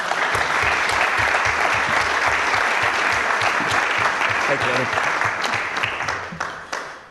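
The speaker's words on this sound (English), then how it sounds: "It's okay to give Candace applause." Audience at a city council meeting applauds an honoree, a longtime city employee and former interim city manager; loud sustained clapping fills the room, fading at the end, with a brief spoken thanks.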